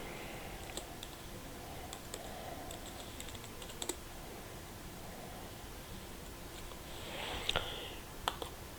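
Keys on a computer keyboard tapped in sparse, irregular clicks, quiet and close over a soft hiss of background noise.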